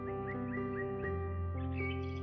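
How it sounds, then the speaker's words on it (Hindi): Birds in Jim Corbett National Park, Uttarakhand, chirp in quick repeated notes over a steady droning tone, growing busier toward the end. "पक्षियों की चहचहाहट सुनाई देगी।"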